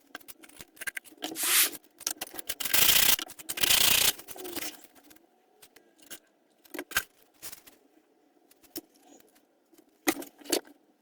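Foam wing panels for an RC warbird being beveled, a dry scraping and rubbing sound in short bursts with a couple of longer sustained passes, near and fairly loud, interspersed with light clicks and quiet gaps.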